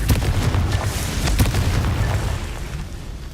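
A Confringo fire spell explodes in Hogwarts Legacy, a loud booming blast followed by several crackling pops and a rumbling tail that slowly fades.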